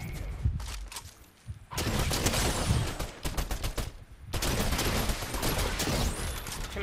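Bursts of rapid gunfire in a video game, loud and close, with dense rattling volleys separated by short lulls, and a voice talking underneath at times.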